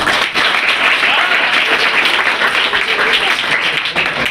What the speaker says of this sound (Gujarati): તો એના માટે વગાડો તાળીઓ